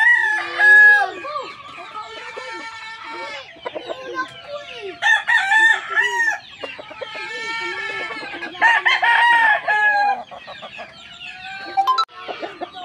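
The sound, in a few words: Sweater gamecock rooster crowing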